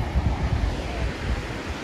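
Sea waves washing onto a fine-sand beach at Sariaya, Quezon, with wind buffeting the microphone, a steady low rumbling roar of surf and gusts throughout the short stretch, no talking.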